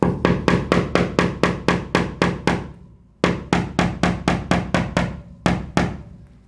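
Sharp, evenly spaced hammer blows striking nails into wood, two long runs of quick taps separated by a brief pause, loud and close.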